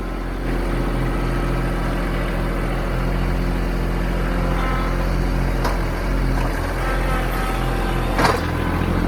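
A tractor engine runs steadily while cutting hay in a pasture field, giving a low, droning hum with a constant throb. A couple of brief clicks sound near the end, and no one speaks.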